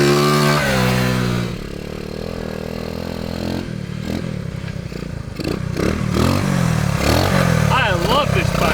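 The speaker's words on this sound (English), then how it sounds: "I love this bike, dude. It rides so good." A 1979 Honda CT90 motorcycle being ridden, engine droning loudly and close with rising revs and gear changes, with wind noise and clatter, and a voice speaking over it.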